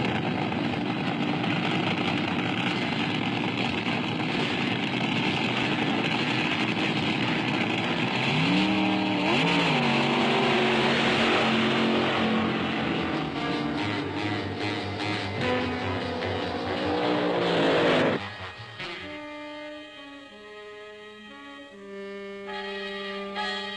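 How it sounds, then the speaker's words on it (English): Drag racing cars thundering down a drag strip, a loud sustained engine roar with rising and falling pitch sweeps mid-run, then an abrupt cutoff to a quieter idling tail. "Cars run down the drag strip every 28 to 34 seconds."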